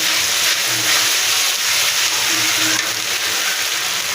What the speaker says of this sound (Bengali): মশলাগুলো খুব ভালোভাবে আপনারা সবাই ভেজে নেবেন, তাহলে তরকারিটা খেতে ভালো লাগবে।